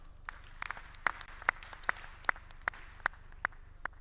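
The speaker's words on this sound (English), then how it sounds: "A round of applause." Audience clapping at a university convocation ceremony, a steady round of applause running throughout with sharp individual claps popping out at a regular rhythm, moderately distant in a large hall.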